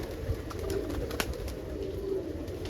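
Roller pigeons at a loft, spooked by a falcon, give soft low cooing and faint stirring at a distance, quiet against light background noise with one sharp tap.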